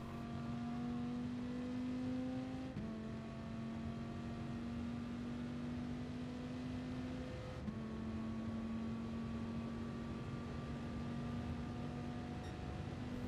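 A race car in Gran Turismo Sport on the Goodwood course, engine holding a steady whine that shifts pitch through two gear changes, faint and continuous as it brakes and accelerates.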